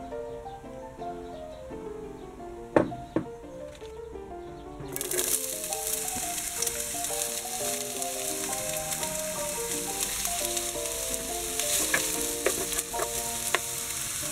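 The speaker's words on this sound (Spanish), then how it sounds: "Y aquí vamos a hacer un sofrito con la cebollita" Chopped onion and pepper fry in oil in a casserole pot for a sofrito, a steady sizzle with stirring that grows louder and brighter partway through, heard under soft background music.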